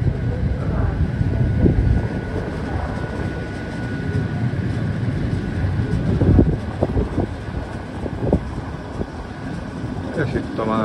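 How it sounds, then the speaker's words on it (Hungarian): A train pulls in at Oradea (Nagyvárad) railway station, which is under reconstruction: a steady low rumble of wheels and carriages with a few sharp clanks, close and fairly loud throughout, while people talk in the background. "És itt a másik vonat, ami megy majd talán Bihar-Keresztes felé."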